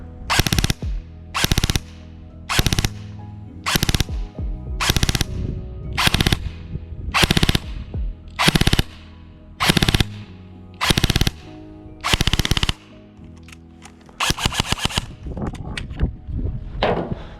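Bursts of fire from an EMG Helios Angstadt Arms SCW-9 airsoft AEG rifle shot outdoors at a tree: about a dozen loud, evenly spaced bursts, each a short rapid rattle, with a longer stuttering burst near the end.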